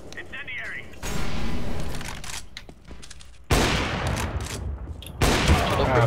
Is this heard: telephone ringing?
no